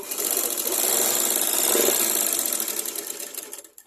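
A sewing machine runs steadily while stitching a back-button blouse, a close continuous whir that slows and stops near the end.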